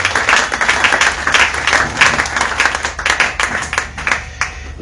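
Loud, dense applause from a church audience, steady clapping sustained throughout and beginning to thin out near the end.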